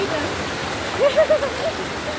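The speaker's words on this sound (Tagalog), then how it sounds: "Tumatawid pa kami ng ilog guys." Rushing river water surges steadily while people wade across a river on Mount Pinatubo, with brief faint voices over the rush.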